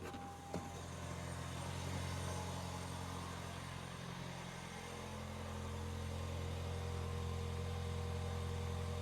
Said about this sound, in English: All right, let's fire it up. There's that turbo 4-cylinder.